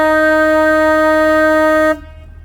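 A single sustained horn honk on a narrow mountain road, loud and close, lasting about two seconds and then cutting off into quiet background.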